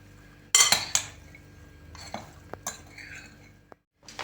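A spoon clinks and scrapes against a bowl in several sharp knocks, with soft mixing sounds in between as a crab stick and cheese salad is stirred, close up and without speech.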